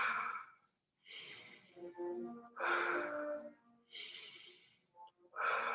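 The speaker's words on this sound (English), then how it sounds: "So you'll start off with some deep breathing." Deep breathing, in through the nose and out through the mouth, repeats in slow cycles of airy inhales and exhales with short pauses between, close and quiet, with faint voiced sighs.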